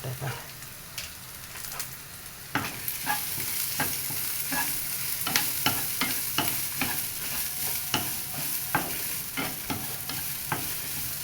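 Fennel, garlic and pepper sizzle in hot oil in a pan, a steady close frying hiss punctuated by repeated clicks and scrapes of stirring, no voices over it.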